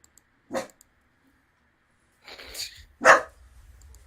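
A pet dog indoors barks twice, separated by a few seconds, close and fairly loud, with a brief softer sound between the barks.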